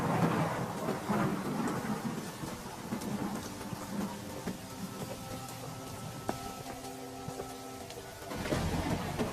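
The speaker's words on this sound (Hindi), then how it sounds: "वह कुछ दूर चला ही था कि तभी जोर जोर से बारिश शुरू हो जाती है।" Heavy rain pours steadily outdoors with rumbles of thunder underneath and a few sharp cracks, the downpour dense and continuous throughout, no voices.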